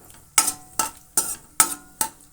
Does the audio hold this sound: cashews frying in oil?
yes